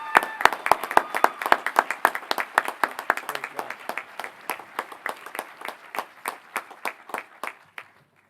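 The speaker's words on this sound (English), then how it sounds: "Could we all please applaud the accomplishments of Amanda Rose Vespucci as she takes the pod" Graduation audience at Frederica Academy's 2015 ceremony claps in a steady, evenly spaced rhythm of sharp, distinct hand claps that carries on for several seconds, then stops abruptly.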